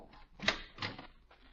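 A door opens in a 1951 Halloween radio drama, a brief close wooden rattle and clunk in a few quick bursts with no talk.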